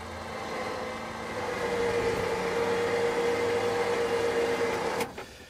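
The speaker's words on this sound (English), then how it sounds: "if you listen to the winch, you can hear it" Electric winch on an off-road trail pulling a heavy machine, its motor whining in a steady, even drone that swells slightly and holds without straining, then cuts off abruptly near the end.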